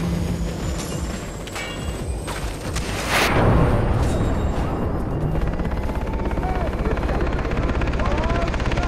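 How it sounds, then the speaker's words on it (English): A helicopter roars in the Far Cry 3 shooter game, its loud rotor chop swelling close amid bursts of gunfire while voices shout over the noise. "Chopper!"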